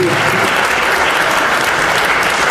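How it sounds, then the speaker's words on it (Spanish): Loud, dense audience applause filling a hall at the close of a lecture, continuous and unbroken from start to finish, with a brief low murmur at the very beginning. "se escuche fuerte ese aplauso para esta brillante disertación"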